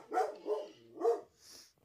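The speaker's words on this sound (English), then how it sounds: "I'm sorry about the dog. I wish I can edit it out, but I can't." A dog barks nearby, four quick sharp barks in a short burst, the last one thinner and higher.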